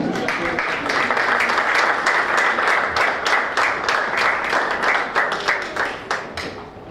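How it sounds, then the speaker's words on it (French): An audience at a three-minute thesis presentation contest applauds warmly for a presenter, with thick continuous clapping that thins into individual claps toward the end, a few voices faintly mixed in. "je vous prie d'applaudir très chaleureusement Meissa Ben Aïcha"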